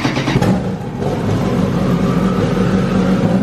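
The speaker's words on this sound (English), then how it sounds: "Can you rev it up a little bit?" Engine of a wrecked 2007 Yamaha R1 motorcycle under rebuild, revving up loudly close by with a rough, throaty growl that rises then holds steady, no speech.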